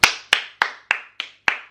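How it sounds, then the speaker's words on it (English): Six sharp, loud hand claps ring out close by in an even rhythm, roughly three per second, each with a quick bright snap and short room decay. "Also, how loud is my clap?"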